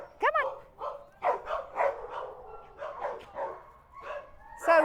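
Several dogs at an animal shelter bark and yip in short, excited bursts, fairly close, with a voice coaxing them between barks.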